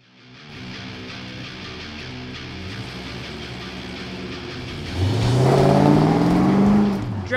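A restoration car's engine running through chambered mufflers, idling with a low burble before revving up into a louder, rising growl, then easing off near the end.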